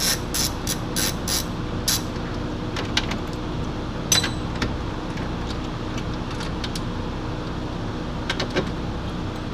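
Bolts on a window regulator motor inside a Porsche 986 Boxster door being loosened: a run of small metallic ratcheting clicks and tool taps over a steady workshop hum, with occasional louder knocks.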